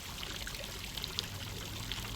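Running water trickles and pours steadily at low volume, a continuous soft wash with small splashy glints and no voices.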